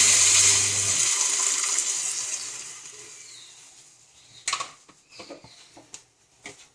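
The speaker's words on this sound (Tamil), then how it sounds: "இப்போ தண்ணி விட்டு கொஞ்சம் வேக விடும்." Water pours in a rushing stream for a few seconds into a pan of sautéed thoothuvalai leaves, then fades, followed by a few scattered clinks and knocks.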